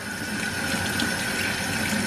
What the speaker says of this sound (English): pour the hot water on it